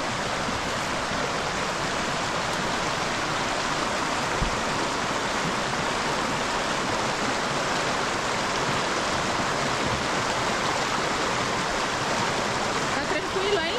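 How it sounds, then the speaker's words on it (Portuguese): Mountain river along the Alpine Loop near Mineral Creek in Colorado rushes loudly and continuously while a gallon jug is filled, with faint voices beneath the flow. "Aqui para encher o galão no rio, um galãozinho, operação enche galão."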